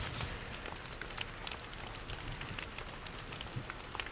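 Rain falling steadily at an outdoor archaeological dig site, a dense, even hiss with scattered nearby drips and pattering drops, with no voices.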